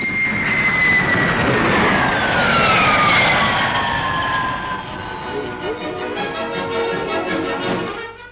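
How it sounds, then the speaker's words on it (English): A de Havilland Comet jet airliner roars past at a Farnborough airshow, a loud jet whine with a falling pitch as it passes, then fading into a distant rumble. "the world-famous long-range jet airliner de Havilland Comet has a cruising speed of 490 miles an hour"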